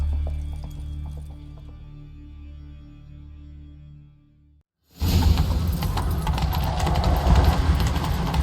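Horse hooves gallop across the ground in The Witcher 3, a loud, dense pounding that bursts in after a brief silence and runs continuously to the end, preceded by quieter low rumbling ambience.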